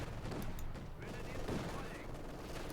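MG42 machine gun fire in the Company of Heroes 2 video game, a dense, continuous din of gunfire filling the scene, with a voice faintly mixed in.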